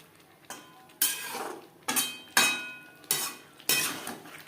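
Potatoes and cauliflower stirred in a pan for a Bengali fish curry, a spoon scraping and clinking against the metal in six distinct strokes at an uneven pace, close and moderately loud with no talking.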